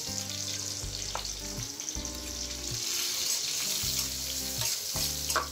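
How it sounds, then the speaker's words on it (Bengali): Chopped onion, green chili and whole cumin frying lightly in hot oil for a beetroot and shrimp dish, a continuous close crackle under low tonal hum, no talking. "তো দেখতেই পাচ্ছেন পেঁয়াজ মরিচটা আমি হালকা ভেজে নিচ্ছি।"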